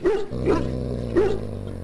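A dog barks in Dragon Age: Origins, three short yapping barks spaced about half a second apart, close and clear over a steady low in-game hum.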